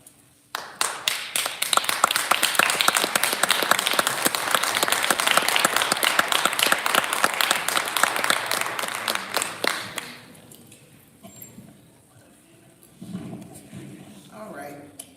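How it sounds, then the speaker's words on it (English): At a Kankakee High School board meeting, the audience claps loudly and steadily for about ten seconds. The applause then stops and quiet talk follows. "I think they were clapping because there's just been a lot of frustration for everybody involved in the whole system."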